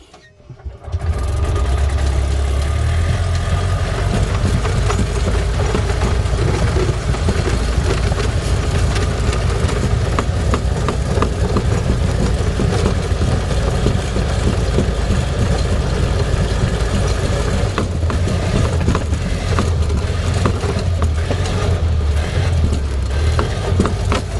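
Freightliner Columbia ParCar golf cart engine, with a faulty choke cable, catches after a brief start and settles into a loud, steady, uninterrupted idle for the rest of the stretch.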